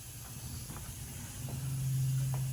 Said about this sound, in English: okay, so now I'm gonna shoot the clear coat